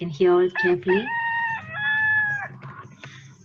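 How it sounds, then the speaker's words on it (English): A rooster crows close by: a few clipped opening notes, then a long, drawn-out, strained call. A voice speaks briefly alongside it. "this is the sound of crowing"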